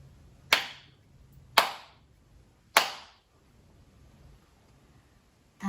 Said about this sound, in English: Three hands clap